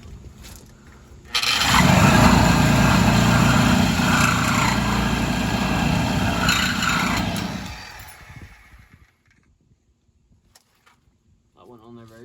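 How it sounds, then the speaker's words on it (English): Power cutting tool slicing through a truck's exhaust muffler, a loud harsh grinding scrape that starts abruptly, holds for about six seconds, then winds down and fades to quiet, with a brief voice afterward. "So for now, I'm gonna cut the muffler off."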